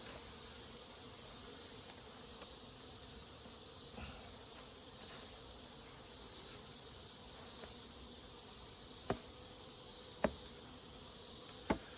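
Honey bees buzzing in a full beehive, a steady dense drone that fills the whole clip at close range, with a few faint clicks and no speech.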